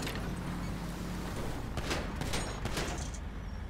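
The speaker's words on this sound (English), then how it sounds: "Still shooting at me." Dense video game gunfire crackles continuously with rumbling booms, sharper bursts clustering near the end, loud and close throughout with no talk over it.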